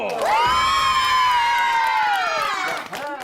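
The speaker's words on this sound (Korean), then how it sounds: "자, 응원의 박수!" A crowd of voices at a game show cheers and whoops together in one sustained, loud shout that trails off at the end.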